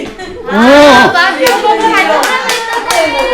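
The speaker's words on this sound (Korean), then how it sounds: "박수." An audience at a church prophecy study class bursts into a short round of clapping, with a few sharp claps standing out while voices sing and talk over it, including children's chatter.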